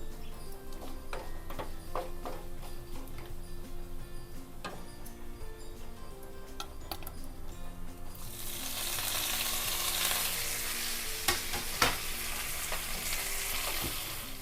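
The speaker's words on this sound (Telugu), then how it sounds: "ఎండుమిర్చి దోరగా వేగిన తర్వాత కరివేపాకు వేసుకుందాం" Dried red chillies, garlic and curry leaves fry in hot oil with a steady crackling sizzle, scattered ticks and stirring clicks, swelling into a louder, denser hiss about halfway through as leaves hit the pan; no one talks.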